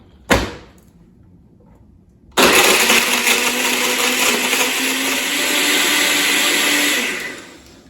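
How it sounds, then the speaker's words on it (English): A countertop blender mixing a Jack Frost cocktail made with pineapple juice, a sharp click and short pause, then the loud motor whirring steadily for several seconds before cutting off, with no talk. "And then we put this on our blender"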